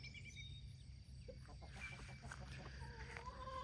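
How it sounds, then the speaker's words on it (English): A broody farm hen clucks softly and closely, low murmuring calls over a quiet background, with no one speaking. "I'm happy to have a broody chicken."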